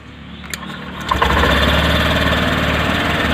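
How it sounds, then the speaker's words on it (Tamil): A BS6 motorbike with a starting problem cranks briefly, then fires and settles into a steady, close, loud idle. "ஓகே, இப்போ வண்டி ஸ்டார்ட் ஆகிடுச்சு."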